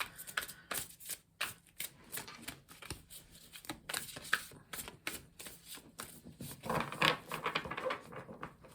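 Tarot cards are shuffled by hand in repeated riffling bursts with soft slaps and flutters, close and fairly quiet, and no one speaks.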